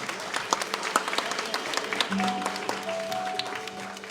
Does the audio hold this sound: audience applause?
yes